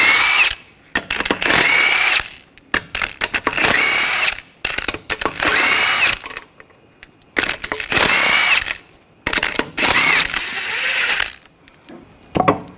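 An impact gun fires in repeated short bursts of loud, close rattling hammering as it removes lug nuts with a 22mm socket from a 2015-2020 Cadillac Escalade wheel, with brief pauses between nuts.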